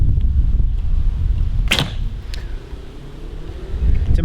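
A Junxing F166 hunting recurve bow looses an arrow outdoors, a single short snap and whoosh standing out over steady wind and low background rumble.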